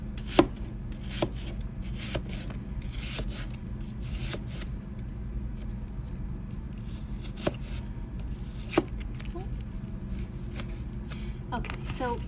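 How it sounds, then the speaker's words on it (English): Knife slicing apples for a homemade apple pie, a series of irregular crisp cuts and taps on a board, close and fairly quiet, with soft handling noise between strokes. "I have a ton of apples left to slice"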